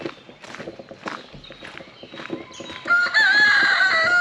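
Chickens cluck and scratch about with scattered rustling, then a rooster crows loudly and clearly near the end.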